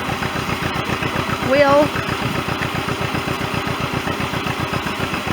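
A tractor engine drives a belt to a hammer mill corn grinder, a loud rhythmic chugging that briefly swells as it speeds up, with people talking over it.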